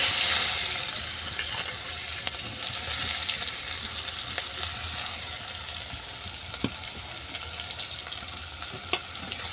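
Chopped onion frying in oil until light brown for a fenugreek (methi) curry, a steady close hiss of sizzling with faint occasional stirring clicks throughout, no talk.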